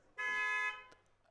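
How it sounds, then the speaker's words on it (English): A finish line buzzer sounds at a rowing race, one clean electronic blast of about half a second, fairly faint against quiet background, followed by a brief click. "Great Britain's Leyden and Glover, who have just shy of a length coming in to the buzzer"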